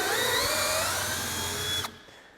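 A Milwaukee driver runs steadily, driving a large fastener with a slow, high-torque whine, then stops abruptly near the end, leaving a faint tail of quiet.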